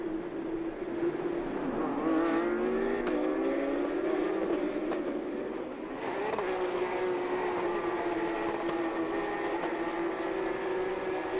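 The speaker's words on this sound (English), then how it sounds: "So 25 cars departing from the grid." Twenty-five Porsche Carrera Cup race cars pull away from the grid at Le Castellet, their engines blending into a loud, sustained rising drone that swells and shifts pitch with no speech.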